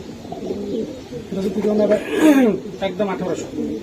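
Pigeons at a pigeon market, a breeding pair with eggs, give throaty rolling coos close by, rising and falling in a warbling run under steady nearby talk.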